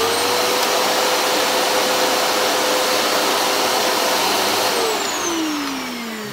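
An Electrolux The Boss vacuum cleaner runs steadily at close range with a loud, constant motor whine, then winds down as it is switched off near the end.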